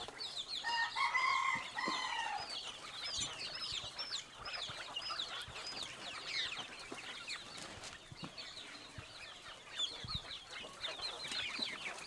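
Young quail chicks on a poultry farm give a dense, continuous chorus of high, rapid chirps and peeps that stays fairly loud and close throughout, without any talking.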